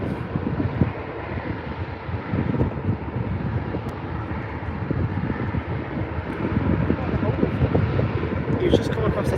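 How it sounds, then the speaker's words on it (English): An Air Baltic Airbus A220-300 jet at Birmingham airport gives off a steady, rumbling engine roar at a distance with wind noise, while someone talks over it. "Your Air Baltic A220-300 on its way over to Brussels."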